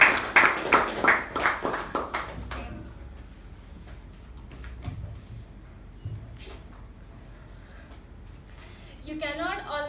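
A short burst of applause from a meeting audience welcomes the Toastmaster, with several seconds of quick, fairly close clapping that then fades into quieter room sounds and scattered knocks.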